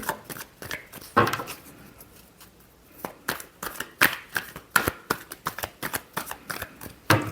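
A deck of tarot cards is shuffled up close in a rapid riffling run, followed by a steady series of crisp, rhythmic card slaps and flicks.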